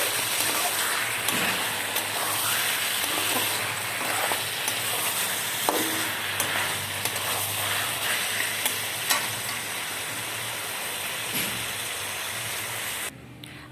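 Chicken pieces fry with spices in a pot, giving a loud continuous sizzle with occasional stirring scrapes, close up and steady throughout.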